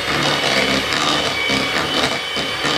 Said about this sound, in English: of the electric whisk.